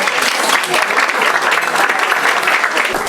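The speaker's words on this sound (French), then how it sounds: "Vous pouvez l'applaudir peut-être" Sustained applause from an audience at a French talk honoring an infectious and tropical diseases hospital department head, dense steady clapping filling the whole stretch with no pauses.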